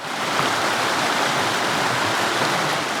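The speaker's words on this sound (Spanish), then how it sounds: "mirad qué vistas del río, cómo se escucha y la cascada que hay por ahí." A steady, full rush of flowing water from the Buñol River and a nearby waterfall near Alborache, Valencia, roaring continuously with no other sounds.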